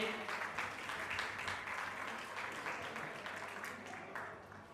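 A wedding congregation breaks into applause, a dense, even patter of many hands clapping throughout, heard from a distance and fairly quietly.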